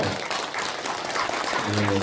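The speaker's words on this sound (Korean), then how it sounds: "박수 한번 쳐주시고요" Dense applause from the crowd at a political briefing session in Suncheon, continuous clapping with a voice rising over it toward the end.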